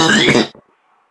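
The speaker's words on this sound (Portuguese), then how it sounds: "eu tô com tosse. Muita tosse ultimamente." A single harsh, throaty cough burst, loud and close, trailing off into a brief quieter rasp and then near silence.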